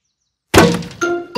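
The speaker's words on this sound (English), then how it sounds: "Who's throwing footballs at my greenhouse?" A cartoon football smashes into a glass greenhouse: silence, then a sudden loud clanging crack and breaking glass, followed by a second ringing clink and a third brief hit, with no speech.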